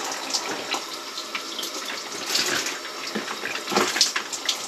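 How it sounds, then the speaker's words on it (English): Shower water runs in a continuous soft hiss and splatter, fairly faint and close, with small surges in intensity and no voices. "I'm just gonna take a shower"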